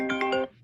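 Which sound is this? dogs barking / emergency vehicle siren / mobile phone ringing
mobile phone ringing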